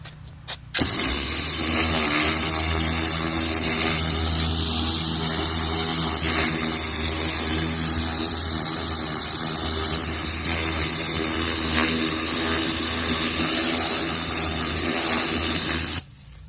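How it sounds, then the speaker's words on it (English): A steady, loud hiss and roar of a pressure washer's rotary nozzle spraying paver joints, with a motor drone underneath, running continuously for the whole stretch. "We're gonna go through every single one of these joints with this rotary nozzle"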